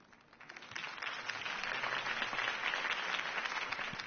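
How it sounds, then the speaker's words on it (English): Crowd applause at a Harvey Dent campaign rally in the Telltale Batman video game, a dense, steady roar of clapping that swells within the first half second and then holds loud and even throughout. "could have heard that applause"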